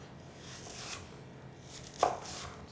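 Knife chopping fresh asparagus into small cubes on a board, soft steady cuts with one sharper, louder knock near the end, close and alone.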